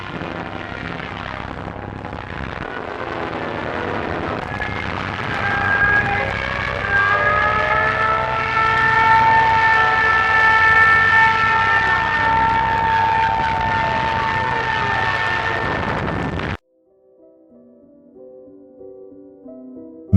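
Archival recording of a Junkers Ju-87O aircraft in a dive: a loud rising engine roar with a sustained, siren-like wailing whine that builds and holds for many seconds, then cuts off abruptly into faint, different sound.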